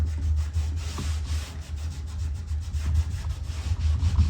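A stiff caulk rag wiping excess caulk off the front of wooden trim gives a steady, close rubbing scrape that runs continuously with small surges, with no talking.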